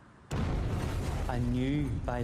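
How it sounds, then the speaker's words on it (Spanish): A huge bomb blast tears through a busy shopping area, hitting suddenly with a loud broadband burst and then a sustained rumbling roar, with a voice heard over it. "Una enorme explosión destroza el corazón de la bulliciosa zona comercial"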